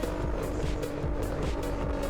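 A car engine drones steadily in the racing game No Hesi, a continuous close, loud engine note with faint tire noise, no voices.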